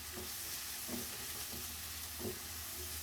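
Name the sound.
stirring chicken filling in a pan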